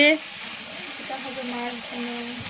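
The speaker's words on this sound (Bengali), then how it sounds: "এখানে শাক ভাজি করা হবে এখানে রান্না চলছে" Greens (shak) frying in a pan in a village kitchen, a steady close sizzle with faint stirring, continuous and even throughout.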